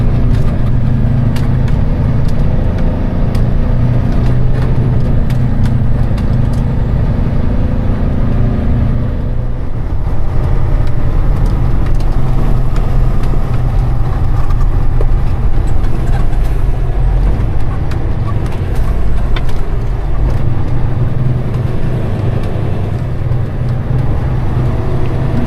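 A truck engine runs hard at high revs on a frozen ice road in northern Canada, heading to the Lupin gold mine: a loud, steady, close low drone with rattling road noise, continuous throughout and without any voices.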